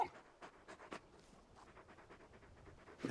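Large dog panting in Final Fantasy XVI, quiet rhythmic breathy huffs close by, repeating in short bursts at low volume with no speech over them.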